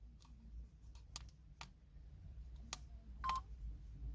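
Dashcam buttons pressed in quick succession, each press giving a short faint beep or click, spaced irregularly over a low background hum.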